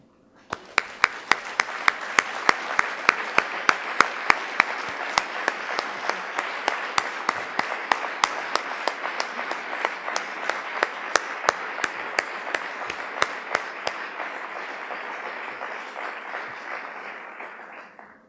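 A round of applause for new members standing at a Business in the Community gathering: sharp individual claps stand out early over a full, even clapping that holds steady, then fades out near the end.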